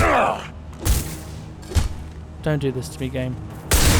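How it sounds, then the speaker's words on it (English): Gunfire in Mass Effect 2 on a ship where the captain guns down his own crew: sharp, loud shots and thuds in separated bursts, with someone talking in between. "He's gunning down his own crew to keep control?"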